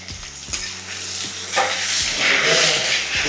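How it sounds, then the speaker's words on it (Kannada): Onion and tomato fried in a pan for a North Karnataka brinjal curry, loud close sizzling with several sharp knocks and scrapes of a spatula stirring. "ಬ್ರೌನ್ ಕಲರ್ ಆಗೋವರೆಗೂ ಫ್ರೈ ಮಾಡಬೇಕು ಸ್ವಲ್ಪ."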